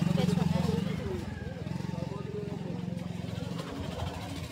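A motorcycle engine idles close by, a steady low throbbing pulse with a dense buzzing body, running continuously beneath crowd chatter at a festival outing.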